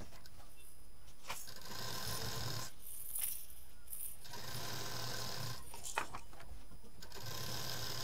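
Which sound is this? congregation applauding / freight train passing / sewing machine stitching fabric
sewing machine stitching fabric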